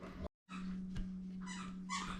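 A dog whimpers and yips faintly in the background over a steady electrical hum, after a brief dropout at the start.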